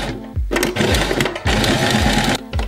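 A sewing machine stitches fabric seams for a bag in quick repeated bursts, with short pauses between runs and a back-tack at the end, loud and close.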